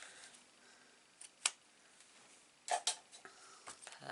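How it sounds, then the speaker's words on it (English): Scissors trim ribbon wrapped around a card in a few sharp, quick snips, one alone and then a close pair, quiet and near against a hushed background. "and then I'm just going to trim off"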